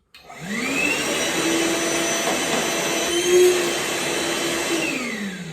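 A Hart 20V 2-gallon cordless wet/dry vacuum motor spins up to a steady whining roar, runs evenly for several seconds, then begins winding down.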